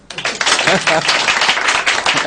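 A studio audience breaks into dense, steady applause after a brief quiet start, many hands clapping at once with voices mixed in throughout.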